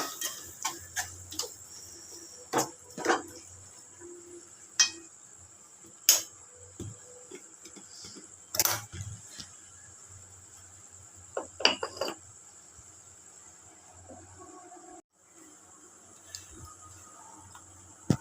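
A spoon clinks and scrapes against a pot while tamarind curry with citron pieces is stirred and mixed, making irregular sharp taps and metallic knocks separated by quiet gaps.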